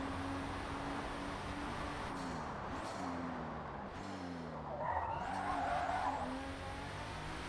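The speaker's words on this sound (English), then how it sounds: "I want to try and do like a drift as well" A car in the racing game Forza Motorsport drifting with the handbrake pulled, the engine droning steadily while the tires skid and squeal in long smeared bursts.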